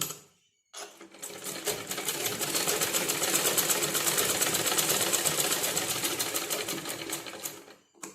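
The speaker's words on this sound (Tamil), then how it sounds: "இப்போ நம்ம படிமான தையல் போட்டுடலாம்." A sewing machine stitching a sleeve seam, running steadily for several seconds after a brief silent start, with a fast even mechanical whir and needle rattle, close up and alone.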